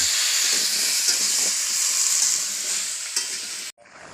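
Pumpkin curry cooks in a pan in a village kitchen with a loud, steady frying sizzle and hiss. Occasional soft stirring sounds come through before the sizzle cuts off abruptly near the end.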